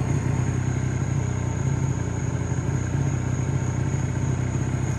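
A Honda Spree scooter rebuilt after a barn find, with a probably dirty carburetor, runs close by at a steady, slightly rough, buzzing putter held on a little throttle, loud and constant with no talk.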